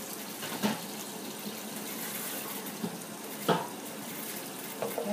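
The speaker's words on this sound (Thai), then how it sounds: "จากนั้นก็เปิดน้ำเย็นเลยค่ะ" Cold water runs steadily from a kitchen tap into a sink, a continuous close splashing hiss with a few brief clunks, no talking.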